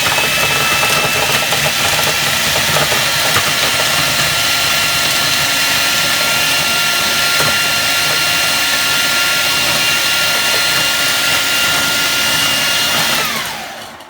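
An electric grinder grinds whole spice seeds for a Malaysian chicken curry, a loud steady whirring roar with rattling seeds that runs continuously for about thirteen seconds before winding down at the end.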